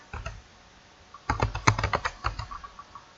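Computer keyboard typing in a quiet room: a few scattered keystrokes, then a quick burst of close, distinct clicks in an uneven rhythm, tapering off near the end.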